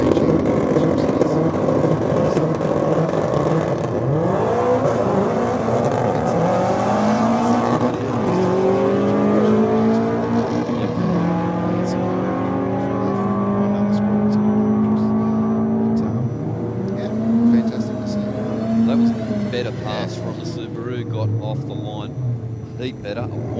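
Drag racing cars, among them a Subaru, launch and accelerate down the strip at Sydney Dragway, their engines roaring loudly and continuously with rising and falling revs, while a commentator talks over the noise throughout.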